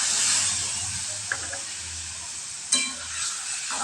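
Water poured into a sizzling mustard-paste spice mixture in a pan while cooking bitter gourd gives a steady close hiss and sizzle, with two brief sharper bursts of steam and spatter partway through, and no talking.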